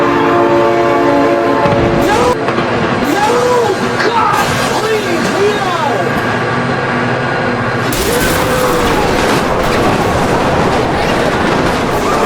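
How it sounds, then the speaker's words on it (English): A train in the driving game BeamNG Drive rumbles past loudly with repeated horn blasts and rolling clatter, continuous and close for the whole stretch. "Oh my god, train!"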